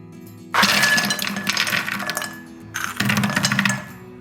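Crispy kalakala maida biscuits for Diwali breaking and clattering, two bursts of crunchy rattling snaps, the first about two seconds long and the second shorter, close and loud.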